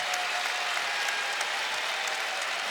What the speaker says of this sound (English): we'll get a nice round of applause from the folks here in Rupp Arena